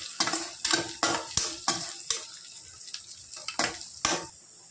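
Cut green chillies fry in a pan for drumstick sambar, with a steady sizzle broken by several sharp scraping stirs close by and no voices.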